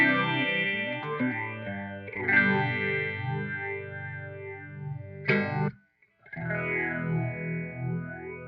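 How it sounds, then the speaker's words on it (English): A guitar played through the bottom phaser of a Walrus Audio Vanguard Dual Phase pedal, set to 10-stage, gives sustained distorted chords with a sweeping, swirling phase motion, a brief cut to silence near the end, then ringing chords again. "I'm just working with the bottom phaser so we can hear how those sound alone"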